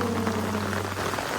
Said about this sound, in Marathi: एवढा पाऊस पडतोय